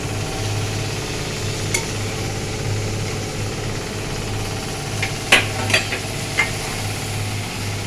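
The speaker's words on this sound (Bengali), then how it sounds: "দিয়ে একটু নাড়াচাড়া করতে হবে এটাকে ভালো করে।" Boiled kidney beans (rajma) fry in a pan, giving a steady low sizzle with a hum beneath it, and a few sharp scrapes and clacks from a stirring utensil near the end.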